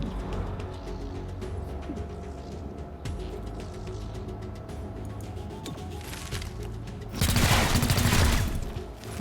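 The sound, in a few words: gunfire from squad weapons in video game XCOM Chimera Squad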